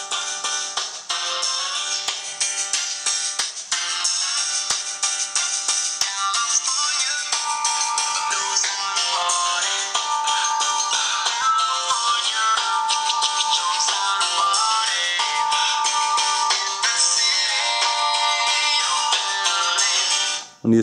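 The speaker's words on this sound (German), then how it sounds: "ich spiele mal schnell den Song ab, dass ihr einen Eindruck von der Audioqualität bekommt" A song played back through the small built-in speaker of a Samsung Galaxy S3 phone, bright and thin with no bass, running continuously and fairly loud with no talking.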